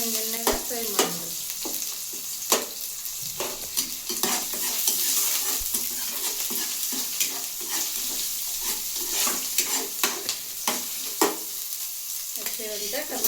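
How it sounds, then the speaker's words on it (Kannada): Chilli-garlic paste frying in oil for aloo dum biryani, a soft continuous sizzle under repeated sharp scrapes and clinks of a spoon stirring in the pan, with faint talk in places. "ಚಲೋ ಎಣ್ಣೆಗೆ ಫ್ರೈ ಮಾಡೋದು."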